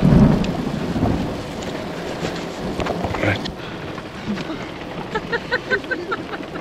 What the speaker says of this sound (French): il y a l'orage, mais l'orage fort